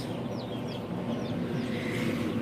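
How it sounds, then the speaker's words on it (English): Chickens and guinea fowl cluck and chirp in a pen, with short squeaky calls rising over a steady low, noisy background. "Then we got some chicken heads and some guineas."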